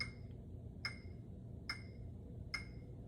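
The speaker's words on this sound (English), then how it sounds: "a metronome very simply is a device that keeps a steady, even, consistent beat for us" Four faint, evenly spaced metronome ticks about every 0.85 seconds, sharp clicks over a low background hum.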